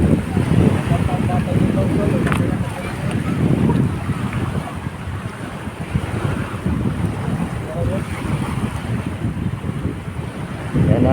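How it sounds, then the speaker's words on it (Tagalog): Waves roll on Manila Bay under strong wind buffeting the microphone, a continuous rough rumble of surf and gusts near the shore with no clear breaks. "kung inyong napapansin ang ating Manila Bay ay maalon."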